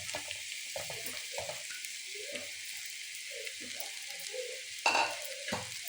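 Leftover rice is stirred into a mango pickle mixture in a hot pan, giving a steady sizzle with intermittent scraping and stirring knocks and one sharper clatter near the end.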